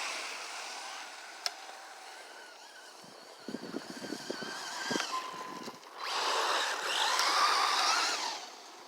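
An Arrma Typhon RC car driven in a park, fitted with Hobby Park tires and a BLX 150 ESC, makes a motor whine and rolling noise at middle distance that rises into a loud, sustained rush near the end.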